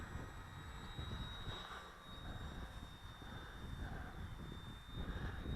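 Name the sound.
Durafly Tundra RC plane flying after takeoff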